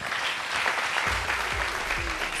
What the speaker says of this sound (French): Viens, on l'applaudit.